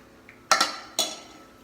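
Chopped beef cheeks being mixed with a heated, thickened sauce in a bowl, giving three quick utensil clinks and knocks against the bowl, close and fairly loud over a quiet background.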